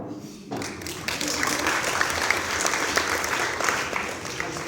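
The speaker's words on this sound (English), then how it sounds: "You may applaud." An audience at a company academy introduction event breaks into dense, sustained applause that starts abruptly after a quiet moment and holds steady and full, with occasional sharper claps standing out nearby.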